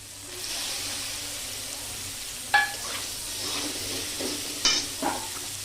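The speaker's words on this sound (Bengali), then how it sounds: "এবার আমি যে পনিরগুলো মাখিয়ে রেখেছিলাম সেই পনিরগুলো এবার তেলের মধ্যে দিয়ে দেবো।" Marinated paneer goes into hot white oil in a wok, bursting into sharp sizzles when the pieces drop in, then settling into a steady frying hiss over a low background hum.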